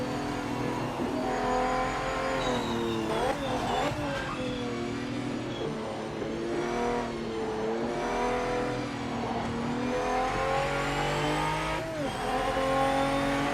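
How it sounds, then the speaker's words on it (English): A car engine in a PC video game revs and roars continuously, pitch rising and falling with gear shifts, loud and close, with brief tire squeals and no voices. "I'm trying to keep quiet while I'm revving the engine, guys, because the sound of this is awesome."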